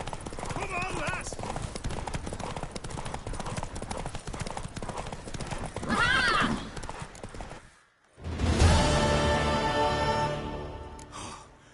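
In The Witcher 3: Wild Hunt, a galloping horse pounds along in fast rhythmic hoofbeats, a loud neigh breaking through, mixed with game music and brief voices.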